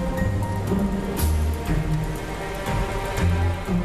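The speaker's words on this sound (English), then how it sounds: "the water vapor would cool and condense and then fall back as torrential rain." Torrential rain pours down in a dense, steady wash of drops, broad and continuous throughout with no voices, low rumbling texture underneath.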